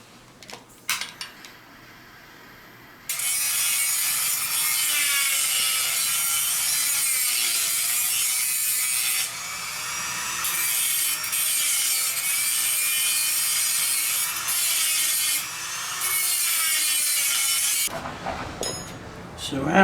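A Dremel rotary tool cuts into a stuck bicycle pedal screw during a crank teardown. The whine is harsh and high-pitched, grinding steadily for about fifteen seconds with brief dips, between quieter handling clatter at the start and end.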